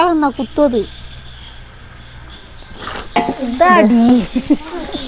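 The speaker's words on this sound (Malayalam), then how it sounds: "എണ്ണ വെച്ചു പട്ട ബിരിയാണിയുടെ തന്നെ മസാല ഇട്ട് കൊടുക്കണ്ടേ" Cinnamon and biryani masala fry in hot oil with a steady, crackling sizzle and stirring throughout, while a person talks over it at close range.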